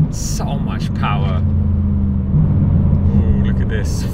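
A brand-new BMW M4 CSL, rear-wheel drive, rumbles steadily from inside the cabin with a deep engine drone that swells slightly midway, while someone talks over it in short bursts.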